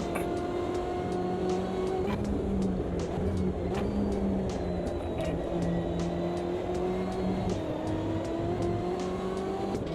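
A BMW race car engine in a racing video game drones steadily for ten seconds, its pitch rising and falling through gear changes while the car is driven hard, with faint clicks scattered throughout and no voices.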